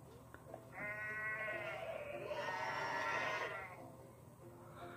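Goats bleat in a video game, several long wavering cries in a row, loud and close, with no talk.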